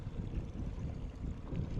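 Wind rises over a fishing boat at sea, a steady low rumbling buffet of gusts against the microphone with no distinct other sounds.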